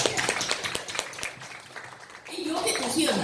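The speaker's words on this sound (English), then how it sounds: "give her a round of applause" An audience bursts into applause, with a quick run of claps that slowly fades, and then someone starts speaking while the last of the clapping dies away.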